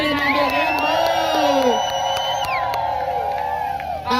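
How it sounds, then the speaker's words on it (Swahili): A rally crowd cheers and ululates, with loud sustained high trilling voices and whoops layered over a roaring crowd, close and continuous. "Basi wapi shangwe, vigelegele na nderemo?"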